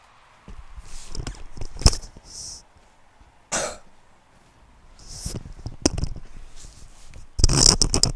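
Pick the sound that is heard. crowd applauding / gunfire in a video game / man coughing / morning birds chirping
man coughing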